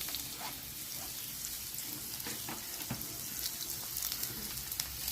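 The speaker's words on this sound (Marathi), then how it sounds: "एवढा कढीपत्ता चांगलं तळू द्यायचे" Onion, garlic and curry leaves frying in a pan for dry bhindi sabzi, a faint continuous sizzle with scattered small crackles and pops, no voices over it.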